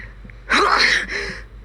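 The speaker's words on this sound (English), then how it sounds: "Excuse me, I just sneezed." A single loud, close sneeze bursts out with a sharp intake and an explosive release, followed by a short tail, alone over faint room hum.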